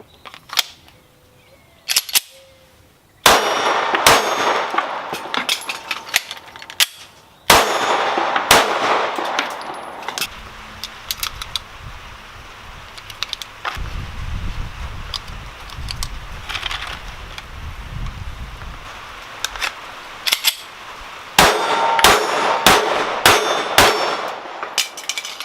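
Rapid strings of sharp, loud pistol shots from a Smith & Wesson Performance Center M&P9 9mm, broken by brief pauses and metallic clatter during magazine changes, then more fast bursts.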